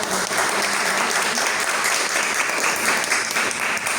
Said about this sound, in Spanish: Aplausos nuevamente, por favor.